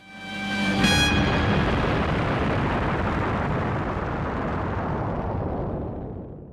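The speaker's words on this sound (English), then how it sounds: "The Vogan missile hits the cyber ship, destroying all the Cybermen." A Vogan missile strikes a Cyberman spaceship in classic Doctor Who and blows it apart: a sharp burst gives way to a loud, sustained, rumbling roar that slowly fades, with no voices.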